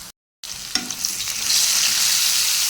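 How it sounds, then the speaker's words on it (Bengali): A steady sizzle of ginger-garlic paste frying in a hot pan, with a brief stir clink near the start and the hiss swelling slightly. "আদা রসুন বাটাটা দিয়ে দিয়েছি, ভালো করে একটু কষিয়ে নেব"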